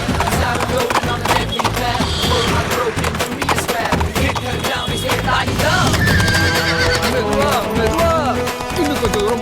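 A horse neighs loudly during a ride as its hooves clop busily and continuously close by, with voices talking over the dense mix.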